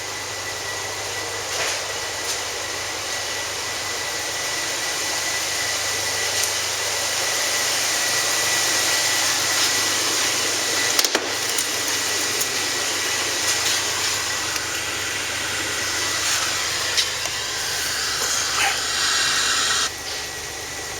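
A Chevrolet Blazer with a 4.3 engine and a damaged fan with a broken blade runs at a salvage yard, giving a steady, moderately loud idle hum with a few faint clicks and knocks.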